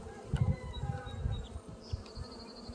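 Honey bees buzz around an open hive during a hive check, a soft close hum with irregular swells as individual bees fly past, with faint handling knocks underneath.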